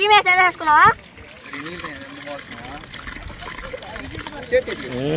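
Water trickles and splashes into a biryani cooking pot on a beach under a person talking, the pouring steady and close after a few loud spoken words at the start.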